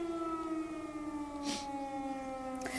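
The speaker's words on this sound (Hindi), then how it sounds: "ये एयर रेड सायरन्स की आवाज़ है।" An air raid siren in wartime Ukraine wails steadily, droning on with layered sustained tones, joined by a couple of brief noisy bursts; no one speaks.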